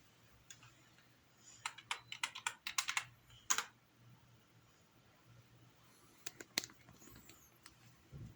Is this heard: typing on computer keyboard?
yes